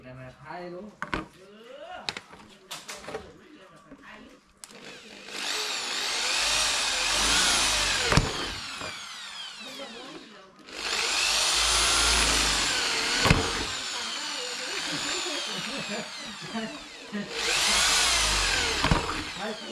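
A power drill bores holes in old PVC pipe, whining loudly in three long bursts of several seconds each, separated by quieter handling clatter and knocks between runs.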